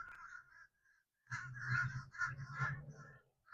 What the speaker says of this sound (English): can you hear the birds? They are so loud.